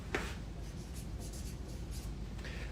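A pen writing on paper, a short steady scratching stroke under faint background noise with no talk.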